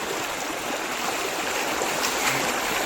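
Water rushes into Ramdhari lake as a continuous, even, broadband roar, steady and fairly close with no pauses.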